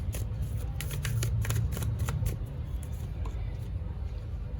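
Tarot cards being shuffled and drawn from the deck, a run of soft papery riffles and flicks in quick bursts, close up and fairly quiet, with a steady low hum underneath.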